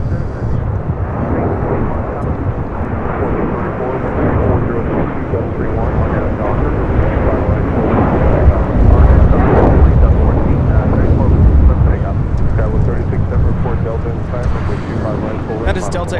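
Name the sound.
Delta Airlines Boeing 737-900ER taking off at LAX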